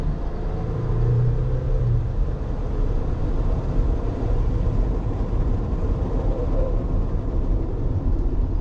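A Sprinter van powers up on a race track, its engine giving a steady, loud, close rumble with a constant road roar that holds throughout.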